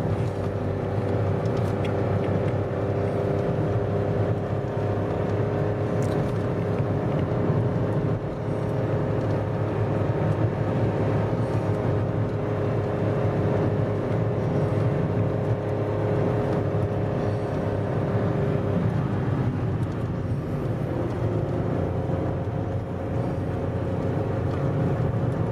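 A car engine drones steadily as it climbs a steep Exmoor road between Porlock and Lynmouth, a continuous hum and road roar heard from inside the car.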